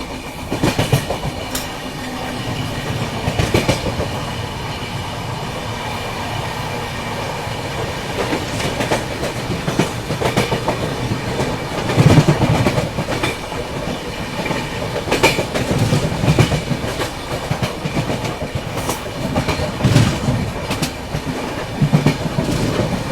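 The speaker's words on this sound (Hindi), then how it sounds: "ये पूरी ट्रेन घूम गई है इधर पे।" A train rolls through a sharp curve after leaving Barsoi, heading toward Barsoi Junction, with steady clickety-clack of wheels over rail joints and a continuous rumble throughout, the noise swelling in a few louder bursts. No one speaks.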